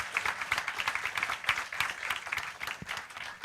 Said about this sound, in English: once again, a big round of applause to DY Patil.